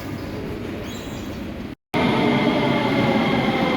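A metro train arriving at a station, rumbling loudly and steadily, with a brief cut in the middle before the heavy rolling noise resumes even louder.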